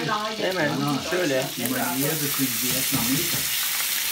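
Butter sizzles in a hot pan while Turkish boiled meat and rice pilaf are being cooked. A steady frying hiss runs throughout, partly under a voice talking over it.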